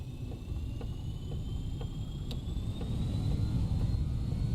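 Jet engines of a four-engine BAe 146 airliner in a flight simulator spool up for takeoff, a steady whirring roar with a rising whine that builds in loudness over several seconds, no talking.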